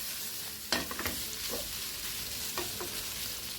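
Beefsteak with onions sizzling steadily in a frying pan, with a few close scrapes of a spatula stirring it, no voices.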